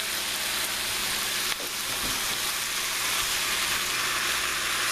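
Onion and mushroom frying in a pan, a steady close sizzle running throughout with a brief stir or clatter near the middle.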